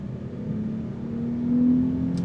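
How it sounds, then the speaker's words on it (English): A 2020 Dodge Charger SXT accelerating gently on a paved road, heard from inside the cabin as a steady low engine drone and hum rising slightly in pitch and volume, with no talking. "I'll get on it a little bit more and see how it accelerates here."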